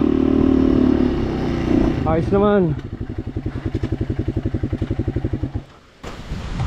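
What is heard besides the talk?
motorcycle on a muddy mountain trail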